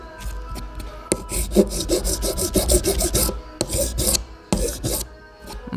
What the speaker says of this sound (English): I'm going to file right here where my slopes kind of flattens off